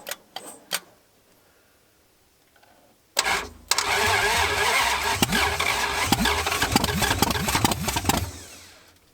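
A seized engine in a crushed Dodge Charger cranks: a few short clicks and bursts, a pause, then a loud, sustained churning crank with rhythmic labouring pulses for about five seconds before it stops.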